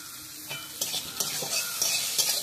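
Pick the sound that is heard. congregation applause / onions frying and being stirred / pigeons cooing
onions frying and being stirred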